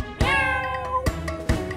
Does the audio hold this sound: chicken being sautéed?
no